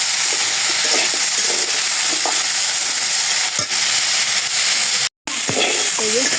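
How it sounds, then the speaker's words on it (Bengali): Curry with turmeric, chili powder and salt is stirred and fried in a pan, giving a continuous hissing sizzle with scattered light scraping and clinks from the spoon. Near the end comes a brief dropout. "এখন কষিয়ে নেব।"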